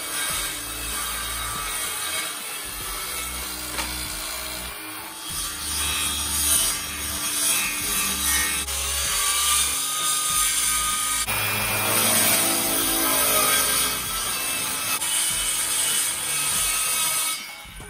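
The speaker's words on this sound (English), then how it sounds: "By setting the depth of my circular saw to only 4mm, or very shallow, I was able to follow that curve on that bulkhead all the way around" A circular saw set to a very shallow depth cuts plywood around a curved bulkhead on a plywood stand-up paddleboard, giving a continuous rasping whine that rises and falls as the blade follows the curve.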